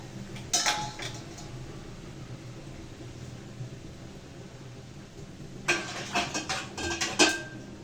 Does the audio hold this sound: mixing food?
yes